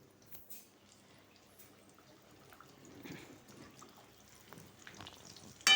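Wheat flour dough pieces for Sankranti sweets frying in hot oil, a faint steady crackle and bubbling close by with small pops, rising briefly near the end.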